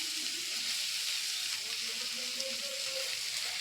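Raw mango pieces sizzling in a pan of frying onion-tomato masala for an egg curry, a soft continuous hiss of frying with faint crackles throughout.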